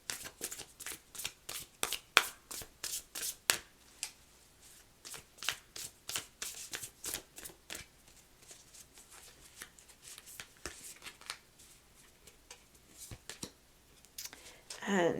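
A deck of oracle cards is shuffled by hand in a quiet room, producing repeated bursts of riffling and flicking in a fast steady rhythm, close to the listener, thinning out toward the end.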